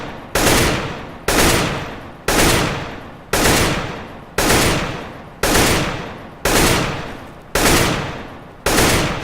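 Repeated two-round bursts from an AK rifle in CS:GO, nine evenly spaced loud bursts about a second apart, each sharp crack trailing off briefly before the next, with no voices.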